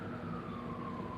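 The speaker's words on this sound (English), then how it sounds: "ambulance, it sounds like, or a fire truck" A distant ambulance or fire truck siren sounds as a steady, slowly falling wail, moderately faint over low rumbling background noise, with no speech.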